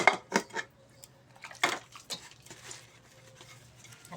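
Dishes being hand-washed during a morning routine, with several clattering knocks of plates and utensils early on, then a quieter stretch of light rattling and water-like patter nearby.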